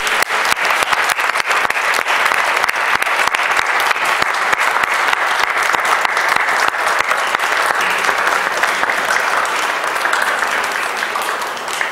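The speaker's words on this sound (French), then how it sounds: "On l'applaudit." A large congregation applauds steadily during a Mass celebration at a sanctuary, a dense, loud, continuous wash of clapping that holds evenly for the whole stretch with no voices over it.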